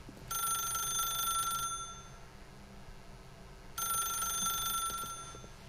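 Telephone ringing in the video game The Stanley Parable: two long electronic bell rings, each about one and a half seconds, separated by a pause, clear and alone with no talk.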